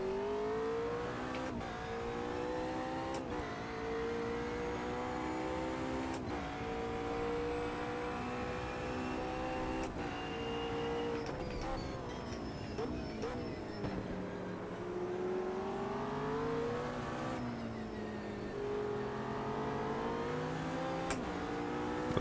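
A GT3 race car engine howls around Imola in Automobilista 2, the note climbing through the gears with sharp shifts and dropping under braking, steady and close throughout with no talk.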